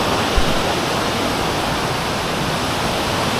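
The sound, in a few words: Salvosa Falls waterfall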